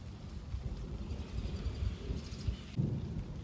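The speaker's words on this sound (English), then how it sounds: "I don't know why the rain's picking up." Rain intensifies during a severe tornado-warned thunderstorm, heavy rainfall hissing steadily while deep rumbles of thunder roll underneath, with a louder low burst near the end.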